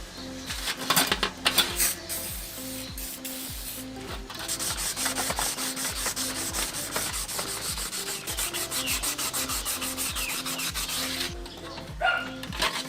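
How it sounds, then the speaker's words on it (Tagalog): Rusty clutch plates from a Yamaha DT125 motorcycle being sanded by hand with 1000 grit sandpaper, a close, steady back-and-forth scrubbing with a regular stroke rhythm, heard alone without talk. "itong mga clutch plates, WD-40 para matanggal yung kalawang at 1000 grit sandpaper"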